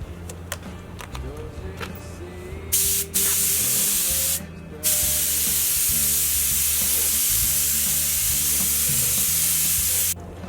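A steady, loud hiss of blue spray paint being applied to a car body, with brief pauses and bursts, over a low mechanical hum and faint background noise.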